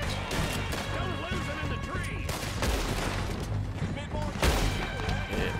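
Gunfire in the video game Red Dead Redemption 2, a scatter of sharp shots and cracks over a busy background, several loud bursts spread unevenly through the stretch.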